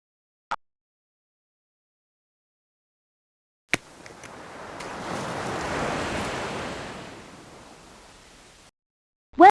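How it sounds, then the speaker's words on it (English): Ocean waves wash onto a beach in the Explorapedia video game, a soft broad surf rush swelling and fading over several seconds, framed by brief clicks before and after. "Ocean waves and tides are very powerful."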